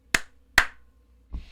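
Two sharp, close hand claps land about half a second apart, each with a quick ring-off, followed by a softer, duller tap a moment later, all in an otherwise quiet room during a casual podcast conversation.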